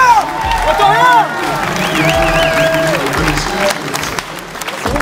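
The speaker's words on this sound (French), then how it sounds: "Sous vos applaudissements." Crowd at the Grand Cross de Craon cross-country race, loud cheering and clapping mixed with shouting voices and close talk, busy and continuous.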